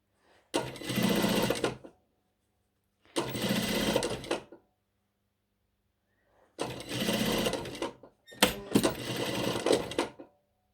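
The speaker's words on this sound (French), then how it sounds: "je commence à piquer 1 cm au-dessus. Avec un point d'arrêt et une valeur de couture d'1 centimètre" A sewing machine stitches a jacket lining with a 1 cm seam allowance, running in four loud, close bursts of rapid needle chatter, the last briefly interrupted, separated by near silence.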